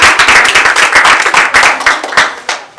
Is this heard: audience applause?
yes